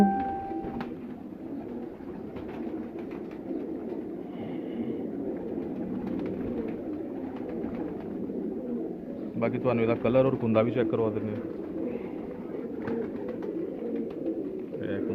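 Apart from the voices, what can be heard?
pigeons cooing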